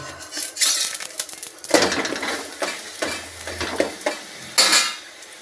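Food is flipped in an oiled frying pan, with clattering metal-on-pan scrapes and clinks in several separate bursts and a low sizzle between them.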